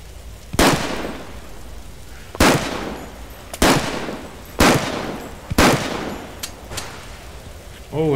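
Gunfire in The Last Stand Aftermath video game, a warehouse story mission: five loud, sharp single shots spaced about a second apart, each ringing out briefly over a steady background hum.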